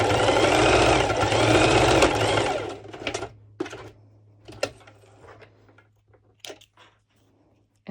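Sewing machine stitching a seam on a sporty bikini top, a fast, close, buzzing run for about two and a half seconds, then dying away into scattered clicks and fabric handling.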